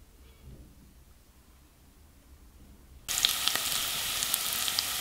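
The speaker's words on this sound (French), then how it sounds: "Et je vais faire revenir avec un peu d'huile d'olive." Hot olive oil in a pan bursts into a loud, steady sizzle as chili peppers and onions start to sauté, the frying suddenly rising from a quiet background and continuing strongly with no talking.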